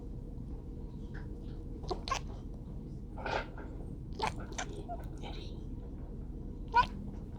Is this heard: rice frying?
no